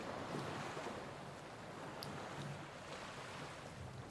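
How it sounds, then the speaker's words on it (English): Quiet coastal water and waves wash softly in a steady, diffuse hiss with faint breezy rumble, distant and low in level, with no talking. "And the sound of coastal water rises."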